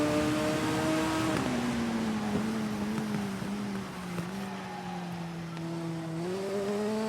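A Super Sport motorcycle engine in the TT Isle of Man racing game holds a steady high-revving whine that dips and rises with gear shifts and throttle, loud and continuous throughout.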